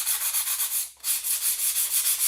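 Steady back-and-forth scratching of a sanding sheet lightly sanding painted wood, close and even, with one brief pause midway before the strokes resume.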